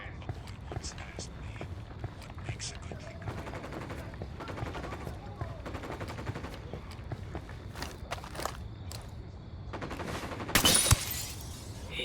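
Gunfire from the video game Ghost Recon Wildlands: dense bursts of automatic and single shots rattle steadily throughout, over game ambience and footsteps, with a louder sharp burst near the end.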